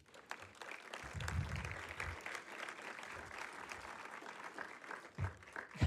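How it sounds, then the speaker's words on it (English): Graduates applaud themselves at a campus ceremony, a faint, distant ripple of clapping spread across a large room, with a few louder bumps near the end. "You were actually a little premature with that applause"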